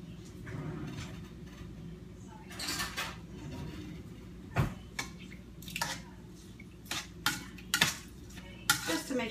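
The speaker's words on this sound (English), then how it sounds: "Now all I'm gonna do is stir it." A spoon stirs rice in a pot, giving soft scraping and scattered clinks against the metal, with a low background hum and no voices.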